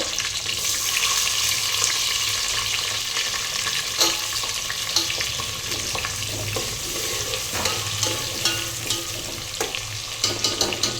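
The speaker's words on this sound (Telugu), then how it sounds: "ఈ ఉల్లిపాయలు బాగా ఎర్రగా ఫ్రై అవ్వాలి" Chopped onions for a pulao fry in a pan with a constant dense sizzle, with occasional stirring scrapes and a faint running-water hiss underneath; close and steady, no speech.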